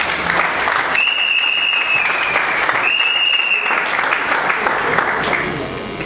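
An event audience claps steadily throughout, a dense even wash of applause, while a sustained electronic tone sounds twice over it, and the clapping thins slightly toward the end.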